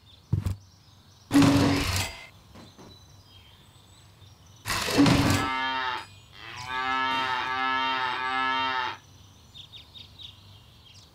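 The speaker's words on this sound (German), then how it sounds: "Jetzt mut die Kuh da unten die ganze Zeit" Cartoonish cow mooing from the Deponia video game sounds out in one long, loud, drawn-out moo, after two short bursts of sound and over faint background game music.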